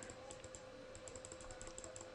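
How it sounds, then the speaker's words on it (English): Keys pressed on a computer keyboard while editing in Sony Vegas: a quick, irregular run of soft, close clicks heard alone over faint background hiss. "I press S on the keyboard."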